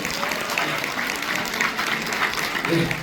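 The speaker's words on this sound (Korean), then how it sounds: "최영 이사님께 큰 박수 부탁드리겠습니다" An audience at a business presentation applauds Director Choi Young, a dense, steady wash of clapping from a crowd that fills the room and carries on evenly, with faint voices beneath.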